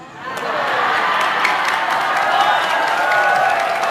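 An audience at an Indonesian sermon breaks into applause and cheering, a broad sustained wash of clapping and shouts that rises quickly and holds steady throughout.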